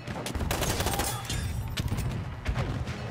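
Mortar fire and rapid battle gunfire crackle through a Battlefield 1 match, a dense run of loud overlapping blasts and shots with no letup.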